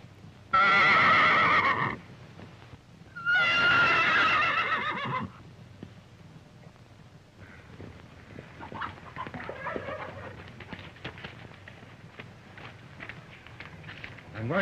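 A horse whinnies loudly twice in quick succession, then quieter hoofbeats and rustling follow.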